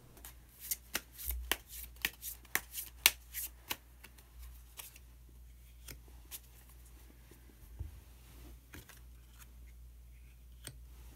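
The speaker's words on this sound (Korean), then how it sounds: "히든 카드를 한 장 더 뽑아보도록 하겠습니다" A tarot deck is handled and a card drawn, a quick series of soft, crisp card flicks and riffles, close and quiet, thinning into scattered light taps.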